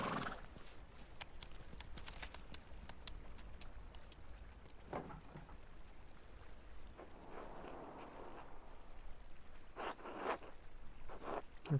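Hooves of a horse trudge through heavy snow in the video game Pentiment, giving soft, irregular muffled steps with occasional louder crunches over a faint, quiet background.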